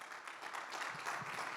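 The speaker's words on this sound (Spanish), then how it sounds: "Denle un aplauso de verdad al Señor fuerte." A crowd's applause at a church service, a dense and continuous clapping, fairly faint and heard from a distance.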